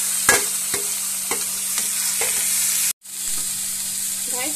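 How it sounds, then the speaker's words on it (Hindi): Chopped tomatoes cooking with onions in a hot pan sizzle loudly and steadily, broken by several sharp spoon clacks and scrapes, close up, with a brief dropout near the end and no talking. "अब मैं इसके अंदर रफली चॉप्ड टोमेटोज ऐड कर रही हूँ"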